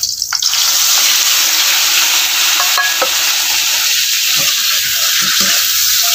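Marinated chicken with calamansi, garlic and onion sautéing in a hot pan, a loud steady sizzle with stirring scrapes close up, no talk.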